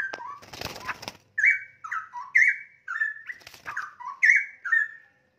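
Straw-headed bulbul, a young bird from wild parents, sings loud rich warbling phrases close by, a run of bubbling whistled bursts with short gaps, preceded by a brief rustle of movement.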